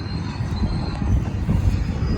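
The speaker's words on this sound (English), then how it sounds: "There's a large Consignment excavator moving over here." A large excavator moves nearby, producing a loud, continuous low rumble with rolling, clanking texture and no pauses.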